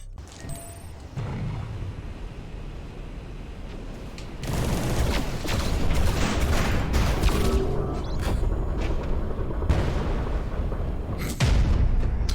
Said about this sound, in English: let's use the sawn off double barrel and see how much it compares to the revolver